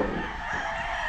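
A rooster crows at a hillside farm overlooking Bacolod and Silay, one loud, close call holding steady for just over a second with no talk over it.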